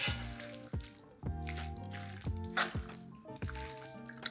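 A microwaved lime is squeezed by hand, giving close, wet squishing and dripping sounds that come in irregular bursts over soft background music.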